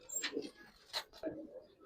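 A female pigeon gives a few soft, short coos in quick succession, faint and close.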